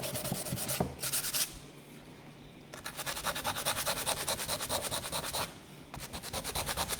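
Paint is rubbed and wiped across a wooden lazy susan to distress it, with a close, steady scrubbing rasp that comes in several sustained passes broken by short pauses.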